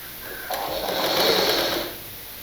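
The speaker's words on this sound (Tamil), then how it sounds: "இழுக்காமல் வச்சு தைக்கணும்." A sewing machine stitches a blouse in a short steady whirring burst of rapid stitching that swells and then stops, heard up close with no talking.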